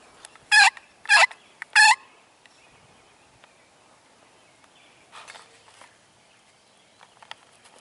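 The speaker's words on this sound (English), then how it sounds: "This hen landed right above their blind." Three loud, sharp wild turkey hen calls in quick succession during a spring hunt in Colorado, then quieter rustling and a softer burst of calls a few seconds later.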